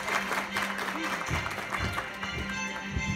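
A crowd claps steadily throughout, with a voice and some background hum underneath the applause.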